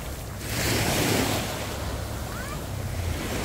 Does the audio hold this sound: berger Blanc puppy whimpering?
no